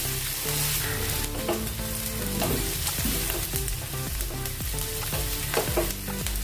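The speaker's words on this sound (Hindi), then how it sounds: "प्याज को हम थोड़ी देर भून लेंगे।" Steady, dense sizzling of finely chopped onions frying in a hot pan, with occasional scraping stirs, continuous and close with no talking.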